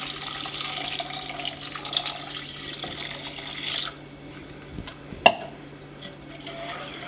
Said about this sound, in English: So next you will put in the 3 cups of water.